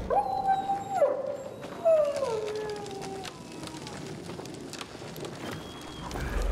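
A dog in the video game Dying Light 2 whimpers and howls in a few falling, wavering cries near the start, over noisy game sounds and faint background.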